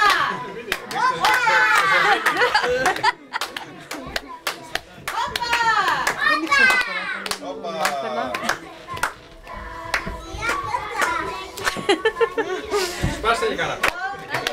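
A crowd at a Greek Independence Day celebration claps in a steady rhythm along with a Greek dance, sharp close hand claps under lively shouting, chatter, children's voices and laughter.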